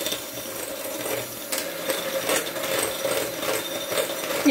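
An electric mixer whipping butter and sugar into a fluffy cream, a steady close whirring drone with faint rattling from the bowl and no voices.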